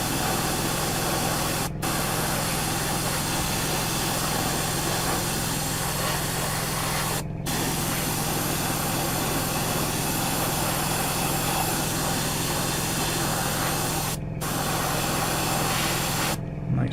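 An airbrush sprays paint onto the front cowling of a Tamiya 1/12 Yamaha YZR-M1 model motorcycle, a steady near hiss running without a break under a low compressor hum.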